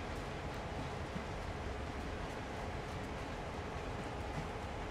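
A CSX heavy haul coal train rolls along in Train Sim World, giving a steady, continuous rumble and rail noise at an even level throughout with no breaks or voices.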